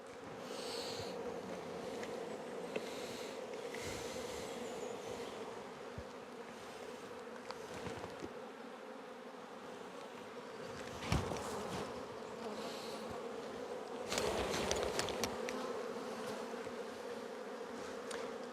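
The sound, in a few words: honey bees buzzing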